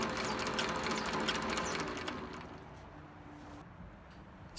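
Old shop machine with a quick change gearbox and leather belt running in reverse, a fast rhythmic mechanical clicking and whirring that fades somewhat toward the end.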